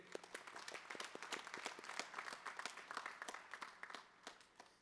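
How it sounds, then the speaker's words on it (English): A conference audience at a closing ceremony gives a hearty round of applause, many hands clapping in a dense, lively patter that swells and then tapers off, heard faintly from a distance. "So huge round of applause for Surajit."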